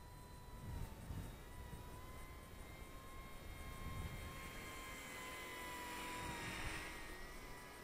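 An Eachine E120 BO-105 six-axis RC helicopter flies and descends into the wind outdoors, its thin rotor whine steady and moderately faint at a distance, with a high tonal hum over broadband wind noise and no talk.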